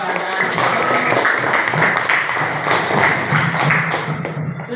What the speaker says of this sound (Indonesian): beri tepuk tangan dulu untuk penghargaan